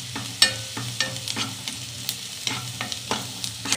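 Chopped onions fry in a pan for egg masala, stirred until brown. A steady low sizzle runs underneath while sharp spatula scrapes land roughly every half second, close and fairly quiet.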